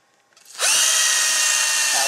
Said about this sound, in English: Drilling a hole through here.